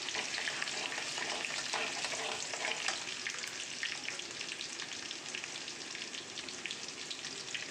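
Garlic sizzles and crackles steadily in hot oil in a pan as it is stirred, a dense, continuous frying hiss with scattered pops, close and loud with no talking, while mutton with papaya is being prepared.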